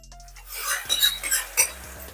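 A spoon stirs curry leaves and crushed garlic in a cooking pot, giving a few short metallic scrapes and clinks close by over a soft sizzle.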